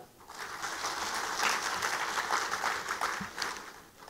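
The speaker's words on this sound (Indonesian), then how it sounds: "Boleh tepuk tangan?" Audience applause at an Indonesian ministerial event, a steady dense patter of many hands clapping for about four seconds, fairly distant and even in level.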